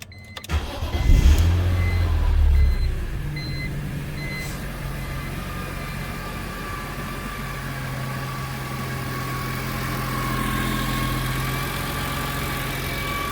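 A BMW E46 M3 engine cranks and catches with a loud rising roar, then settles into a steady, slightly uneven idle that holds close and constant for the rest of the clip.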